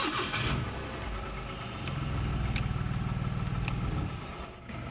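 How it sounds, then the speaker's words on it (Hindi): A Toyota Vitz/Yaris hatchback starting up: a short cranking burst, then the engine catches and settles into a steady, close, rhythmic idle with a faint rising rev before quieting. "गाड़ी को स्टार्ट करके"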